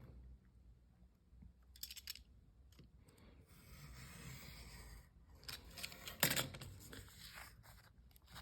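Scissors cut through a paper letter envelope for a scrapbook mini album, giving quiet, intermittent snips and crisp paper rustles close by, with one sharper crunching cut near the end.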